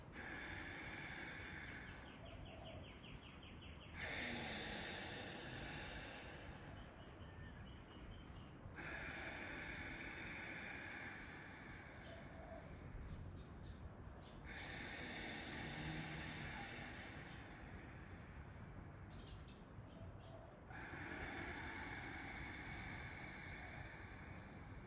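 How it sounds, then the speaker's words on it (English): Ujjayi pranayama breathing, a steady hissing, ocean-like rush through a gently constricted throat, repeated in long even inhales and exhales across several rounds, close and continuous without talk. "So I'm just going to show you quickly a round of Ujjayi breath."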